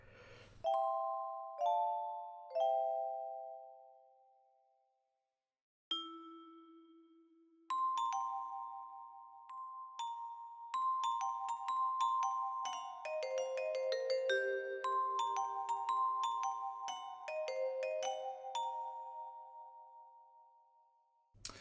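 A sampled vibraphone from the UVI Orchestral Suite library plays a few slow ringing notes, then a run of denser melodic phrases, each mallet strike chiming clearly and fading with a long shimmering decay, with no other sounds present.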